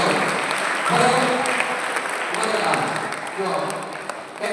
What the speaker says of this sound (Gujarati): તો તાળી પાડી દેને પ્રોત્સાહન આપો.